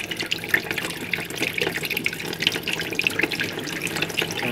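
Hot water runs steadily from a tap into a sink while an object is held under the stream, producing a continuous close splashing hiss with small fluctuations.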